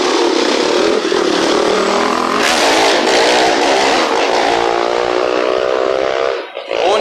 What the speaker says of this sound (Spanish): Seguido de la 1A, que se le apaga la moto por ahí.